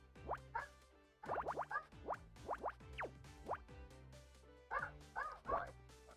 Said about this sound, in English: she's barking again at cats.